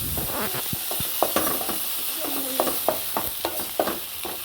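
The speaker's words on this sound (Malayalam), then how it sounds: "അത് രണ്ടും ആഡ് ചെയ്തിട്ട് നന്നായിട്ടൊന്ന് ഇളക്കി കൊടുക്കാം" A pot of vegetables with tomato, brinjal and tamarind water for thick rasam is stirred. A spoon knocks and scrapes in a quick run of sharp clicks over a low bubbling sizzle, with no talking.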